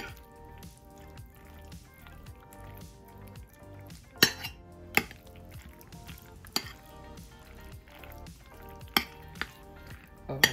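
Cold macaroni salad being mixed in a bowl, wet squishy turning of the pasta punctuated by sharp clinks of a utensil against the bowl at irregular intervals, close and fairly quiet.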